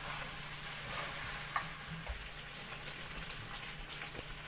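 Lobster and green onions stir-fried in a hot pan, Cantonese-style sauté, giving a steady close sizzle with scraping stirs and occasional clacks of the spatula.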